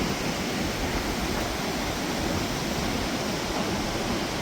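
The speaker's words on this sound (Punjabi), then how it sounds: "ਇਧਰੋਂ ਛੋਟੇ ਛੋਟੇ ਝਰਨੇ ਰਲ ਕੇ ਤੇ ਨਹਿਰ ਦਾ ਰੂਪ ਲਈ ਜਾਂਦੇ ਆ ਪਾਣੀ ਦੀ ਬਹੁਤ ਆਵਾਜ਼ ਆਉਂਦੀ" Small waterfalls merge into a rushing mountain stream beside a bridge on the Hemkund Sahib trek, a dense, loud, unbroken white-noise roar of water with no voices.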